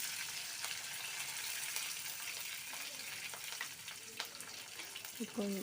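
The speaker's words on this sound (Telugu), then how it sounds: "కాడలు వరకు సపరేట్గా తాలింపులో యాడ్ చేస్తున్నాను" Coriander stems frying in a tempering of hot oil for South Indian sambar, a faint, continuous crackling sizzle with occasional pops.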